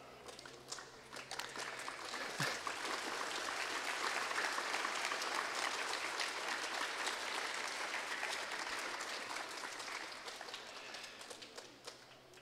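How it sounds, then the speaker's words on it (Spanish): Applause from a crowd at a Mass opening the school year, a broad steady clapping that swells in, holds for about ten seconds and then tapers off, moderately loud and without talk. "Está su aplauso, Madre Maritza."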